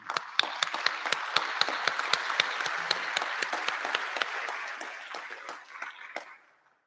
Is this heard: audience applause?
yes